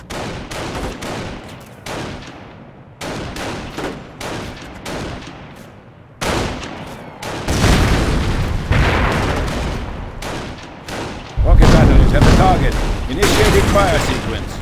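An artillery barrage in Company of Heroes, loud repeated booms and crackling bursts of gunfire in irregular volleys that build into heavier blasts, with game voices calling out over the battle.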